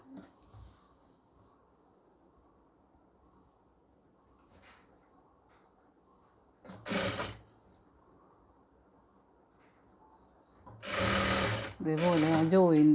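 Domestic sewing machine stitching a pleated nightie, running in a brief burst and then a longer, louder run near the end, close up with faint talk in the quieter stretches.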